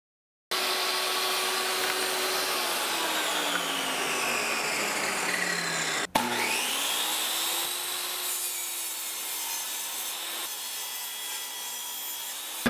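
A power saw rips a long cut through a wooden board, making a 45 degree bevel for a carpenter bee trap box. The loud, whining cut dips briefly partway through, then carries on to the end without talk.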